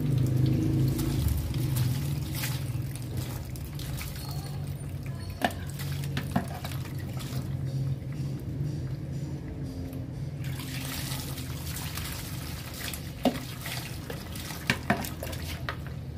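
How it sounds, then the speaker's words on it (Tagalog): Water is poured and splashed over a motorcycle's rear brake to rinse it, a continuous close trickling and spattering with occasional clatters of handling, no speech. "subukan ko bubuhusan natin ng tubig"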